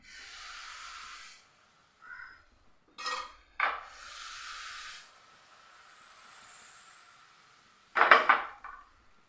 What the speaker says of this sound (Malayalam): ഇനി നമുക്കിതിലേക്ക് ഒരു തവി മാവ് ഒഴിച്ചിട്ട് ജസ്റ്റ് ഒന്ന് ചുറ്റിച്ചെടുക്കുക